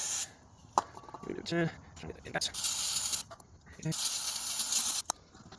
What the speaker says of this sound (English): currently it's going to be lubricated with brake cleaner